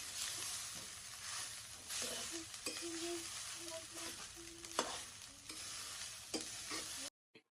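Rice and egg fry in a pan with a steady, close sizzling hiss, broken by repeated stirring scrapes and a few sharper clicks, before cutting off abruptly near the end.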